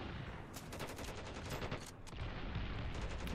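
Rapid automatic gunfire in the Ravenfield battle game, quick rattling bursts of shots, somewhat distant and faint, with a short pause before the firing resumes more densely.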